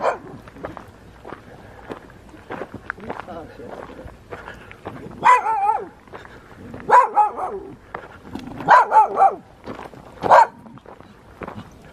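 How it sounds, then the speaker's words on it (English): Dogs barking at a person during a mountain drive: several loud bursts of barking in clusters, heard over low background rumble and talking. "the dogs are barking at me"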